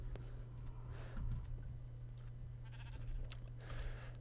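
Sheep bleating in Minecraft, several short faint bleats scattered over a low steady machine hum, soft and somewhat distant.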